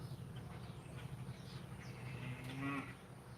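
Cattle on a farm with a bull nearby, low lowing moos rising through a steady noisy background, one drawn-out moo swelling near the end at moderate distance.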